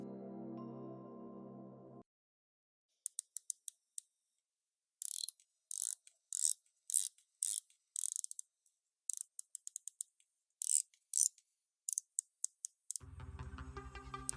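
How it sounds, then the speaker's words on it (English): A Phoibos diver watch's ceramic bezel is turned in short runs of crisp, close ratcheting clicks separated by silent gaps, with a steady low hum at the very start and end. "probably Phoibos' best bezel yet. The clicks are not too soft, not too harsh, and the tension is perfect."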